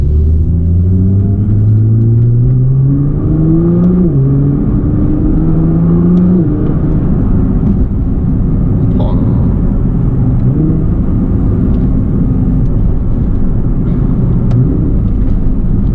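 Nissan GT-R Nismo engine while driving, loud and continuous, with rising and falling revs as it climbs through gears, steady road rumble throughout.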